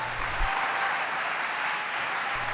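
Audience applause at a political speech: dense, steady clapping from a crowd, sustained and fairly loud throughout, with no one speaking over it.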